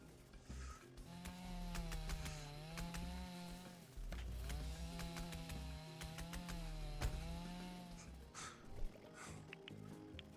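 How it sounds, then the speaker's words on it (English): A chainsaw in the video game Dinkum revs in three repeated surges, its engine drone rising and falling in pitch, with clicks and brief clatter mixed in at a moderate distance. "I got a chainsaw."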